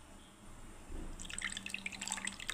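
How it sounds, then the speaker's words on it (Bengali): Warm milk poured into a bowl for making curd, a short close trickle and dripping splash that starts after a soft knock, fairly faint with no talking. "আমি এবার দুধটা আমি ঢেলে দিচ্ছি এর মধ্যে"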